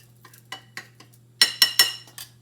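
A breadcrumb, paprika and garlic salt coating mixture is stirred in a bowl: soft scraping at first, then a run of louder clinking utensil strokes near the end, close and with no talk.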